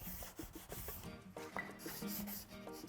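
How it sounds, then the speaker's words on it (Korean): Close, quiet rubbing and rasping strokes of sandpaper by hand on the wooden parts of a book stand, repeated in quick uneven rhythm. "손에 거슬리지 않을 정도의 사포질만 하는 겁니다."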